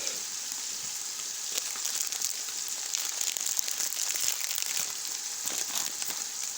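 Biryani masala spice powder is poured from a packet into hot oil in a pan, setting off a steady, fairly quiet sizzle with soft crinkling, and no talk over it.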